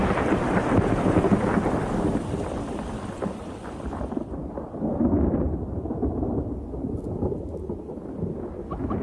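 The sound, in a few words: thunderstorm with thunder and rain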